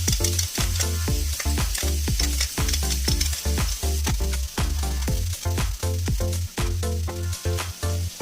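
Garlic sizzles in melted butter in a pan for chicken Marsala, a steady loud frying hiss broken by frequent sharp clicks and scrapes of stirring.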